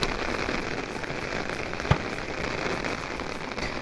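Rain falls steadily in a constant, even patter, with one sharper drop or knock standing out midway.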